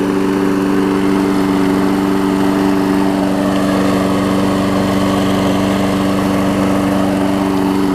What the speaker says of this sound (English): I got a great mower here